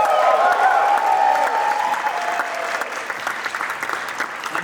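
An audience at an April entrepreneurship event in Lexington cheers and applauds loudly, with whoops over a sustained clapping roar that gradually thins out.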